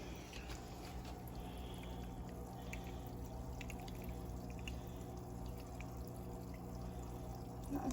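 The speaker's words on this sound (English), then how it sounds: "We'll just fill it halfway with the Stress Coat." Stress Coat water conditioner is poured into a teaspoon in a thin, faint trickle that runs quietly and steadily over a constant low hum, close by, with no talk.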